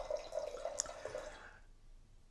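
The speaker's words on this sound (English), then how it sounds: "I'll definitely pour a little bit more in" Rosé wine trickles briefly into a glass, a soft close splashing pour that fades out after a couple of seconds in a quiet room.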